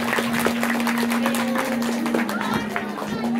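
An audience at an outdoor Ramlila event claps briefly, a scattered burst of applause under an announcer's amplified voice, with a steady electrical hum behind.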